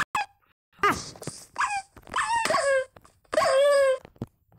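Tamed dogs in Minecraft whining and whimpering, a run of high, drawn-out whines with short yelps between, close and alone without talk.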